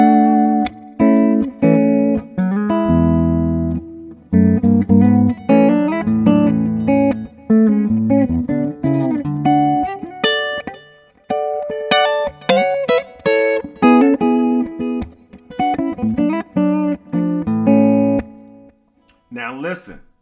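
Clean electric guitar plays major triad inversions, strummed and picked in short bursts separated by brief pauses, moving across the neck with ringing tones.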